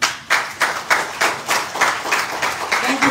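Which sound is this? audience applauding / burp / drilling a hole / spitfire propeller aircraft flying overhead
audience applauding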